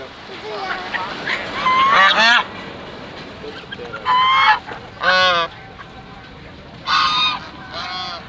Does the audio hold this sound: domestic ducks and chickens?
yes